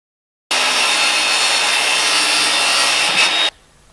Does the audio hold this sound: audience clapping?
no